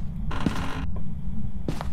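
An in-game door in Phasmophobia creaks open, a drawn-out groaning creak up close, followed after a brief gap by a second shorter creak, with no talk over it.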